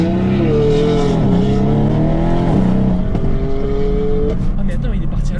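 Mercedes C63S AMG (510 hp) and BMW M4 Competition (550 hp) launching with launch control at a drag race start: a loud, close engine roar whose pitch swoops up and down, with voices mixed in.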